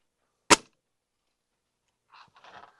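A Gamo Magnum Pro or Viper .22 spring-piston airgun fires a single sharp, loud crack at a target at an outdoor expo range, followed by quiet murmured talk.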